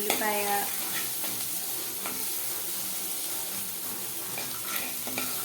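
Onions fry in a pan with a steady sizzle and a few stirring scrapes, moderately close, with no talking.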